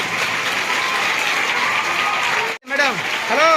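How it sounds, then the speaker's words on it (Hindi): Crowd at a school teacher's farewell ceremony claps in a sustained burst, cut off by a brief dropout before applause resumes with voices over it. "बहुत अच्छा, ताली बजाइए।"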